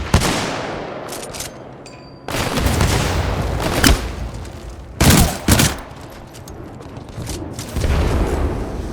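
Frag grenade blasts and gunfire in a Titanfall 2 firefight; several loud, sharp bursts and booms arrive irregularly, one cluster around the middle, over a constant rattle of combat noise.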